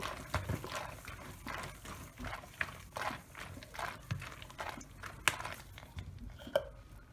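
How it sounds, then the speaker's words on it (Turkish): A closed jar of cracked green olives in salted water with lemon salt is shaken, giving irregular sloshing and knocking thuds of olives against the glass, close and fairly quiet. "Kapağını kapatıp şöyle bir iki tur sallıyoruz."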